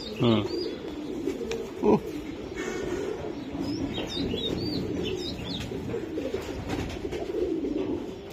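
A male racing pigeon coos softly in the hand at a pigeon farm, low murmuring calls running under background chatter, with brief handling bumps and faint chirps from other birds nearby.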